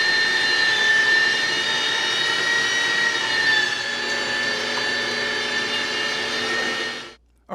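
A home meat grinder churns through cold pork butt with a steady, loud whirring motor drone, holding constant for about seven seconds before cutting out abruptly.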